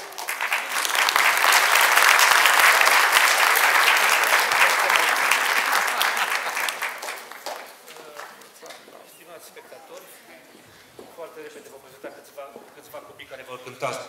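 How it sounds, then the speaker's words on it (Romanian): An audience at an international piano performance competition in Lugoj applauds the competitors, with loud sustained clapping that swells and then fades after about seven seconds into scattered claps and murmurs. "și încă un rând de aplauze pentru toți concurenții și pentru Emanuela."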